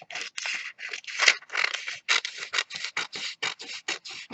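Scissors snip through a half sheet of craft paper for giant paper flowers, a quick run of about a dozen close crisp cuts in a steady rhythm with no talking.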